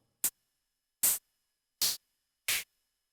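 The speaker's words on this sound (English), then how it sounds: "this knob is actually pretty much just does a filter on the hi-hat white noise" Four short bursts of filtered white-noise hi-hat from an Arcus drum machine, evenly spaced and crisp, each a bright hiss with a quick cutoff and silence between.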